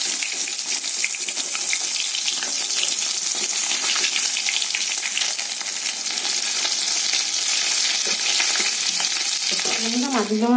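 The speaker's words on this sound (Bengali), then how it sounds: "এই মাছ ভাজাটা আমার হয়ে গেছে, আমি এবার একে একে তুলে নেব" Pieces of rohu fish fry in a hot pan, giving a loud, continuous sizzle and crackle that holds steady throughout, with a few brief clinks near the end and no talking.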